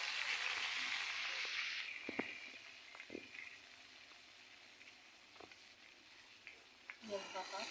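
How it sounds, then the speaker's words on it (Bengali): Onion paste hits hot oil in a kadai with a loud sizzling burst that fades to a quieter crackle, with scattered clicks of utensils and a voice near the end. "প্রথমত আমরা কড়াইতে পেঁয়াজ বাটা দিয়ে দিলাম।"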